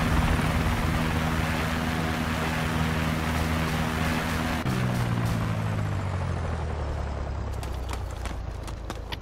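A helicopter flies in the ArmA II military video game, a loud, steady rotor drone with low humming tones that dip partway through, continuous and close, with no talk.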